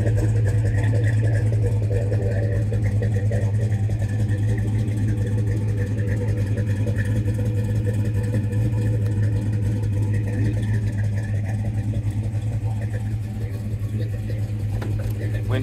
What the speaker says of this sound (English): Car runs and drives beautiful.